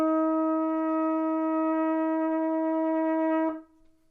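A trumpet sounds a single sustained F, fingered with the first valve, held steady and loud for about three and a half seconds before cutting off cleanly.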